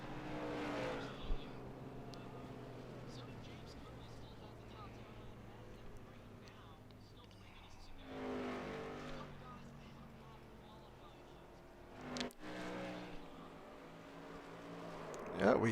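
Race car engines roar through qualifying laps at Five Flags Speedway in a racing video game, rising and falling as cars pass, with a sharp burst near the end, under steady commentary.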